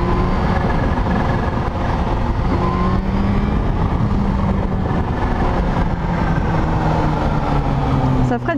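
A Kawasaki Z H2 motorcycle engine runs steadily while riding, its smooth drone climbing in pitch under loud rushing wind, with a sharp burst of revs near the end.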